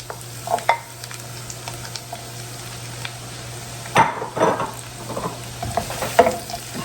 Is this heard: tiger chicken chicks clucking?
no